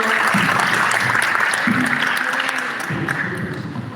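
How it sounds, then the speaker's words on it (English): A crowd claps in sustained applause, dense and steady, with a few voices mixed underneath, tapering slightly toward the end. "Alright, round of applause for Coach Robert."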